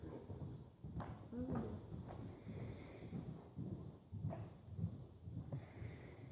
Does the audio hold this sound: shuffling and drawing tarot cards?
no